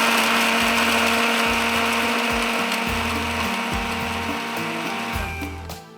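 Electric grinder whirring loudly while grinding spices for Delhi nihari masala: a steady, high-speed motor whine with rattling, pulsing undertones from the jar contents, close and continuous before slowing at the end.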